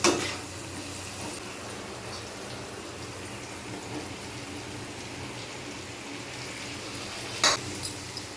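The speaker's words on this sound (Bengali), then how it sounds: "এবার নাড়াচাড়া করে আমি কুমড়োগুলো দিয়ে দেবো" Bitter gourd with turmeric is stirred as it fries in a pan before pumpkin goes in, a steady, dense sizzle running throughout with a few louder scrapes and clatters near the end.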